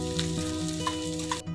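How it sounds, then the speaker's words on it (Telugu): Onions and green chillies frying in a pan, a close, steady sizzle with soft stirring scrapes and brief clinks. It runs without pause and cuts off abruptly near the end. "వేగినాయండి, ఎర్రగడ్డలు ఎర్రగడ్డలు, పచ్చిమిరపకాయలు వేగినాయండి."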